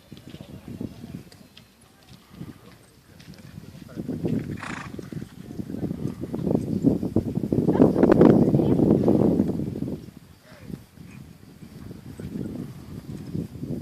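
A horse working through a slow circle and stop in a reining demonstration, with irregular hoof thuds and movement noise building to a louder, close stretch midway, while someone comments in French over it.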